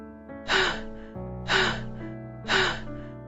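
Three loud, close gasps for breath, evenly spaced about a second apart, each a sharp breathy intake that fades off over a faint tonal background.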